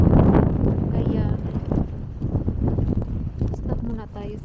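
Wind blowing during a snowstorm in Montreal, rumbling against the microphone in steady gusts, heard close and loud under a person talking.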